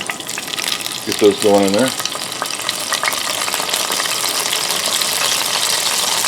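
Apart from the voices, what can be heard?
potatoes frying in a pan with onions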